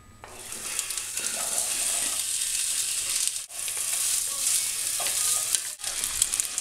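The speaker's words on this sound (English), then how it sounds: "So I got my pan heated up to maximum, no oil, because I'm going to get the fat right from those chorizos" Chorizo sausages fry in a pan heated to maximum with no oil, giving a loud, steady sizzle that carries on with brief interruptions as the meat is stirred.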